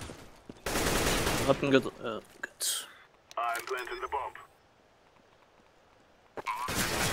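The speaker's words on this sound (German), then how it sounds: "Irgendjemand hat gerade auf Liquid geschossen." Bursts of gunfire in the video game CS:GO on the Trouble Town custom map, loud rattling volleys near the start and again at the end, mixed with a character voice and players talking over voice chat.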